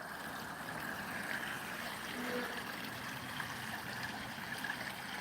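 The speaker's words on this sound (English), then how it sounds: "can you hear the water?" Water flowing steadily in a local park, a continuous soft trickling stream heard at moderate distance with no voices.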